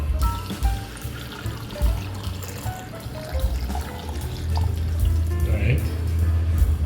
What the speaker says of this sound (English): So I'm gonna pour in out 2 cups of water.